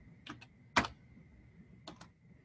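Keys tapped on a computer keyboard while numbers are entered: a few quick soft clicks, one louder sharp tap near the start, then a closing pair, close and fairly quiet over a steady faint hum.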